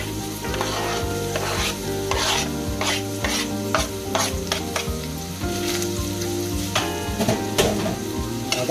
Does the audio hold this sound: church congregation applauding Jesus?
no